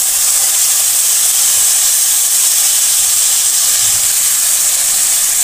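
Masala frying in a pan for dim dal (an egg and lentil curry) hisses and sizzles steadily after a splash of water is added, a loud, continuous, even spitting with no voices.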